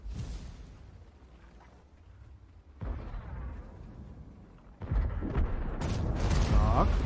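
Heavy booms and blasts of a tank destroyer cannon in a video game, the Controcarro 1 Mk. 2, with a sharp, louder burst near the end over a rumbling, busy soundscape.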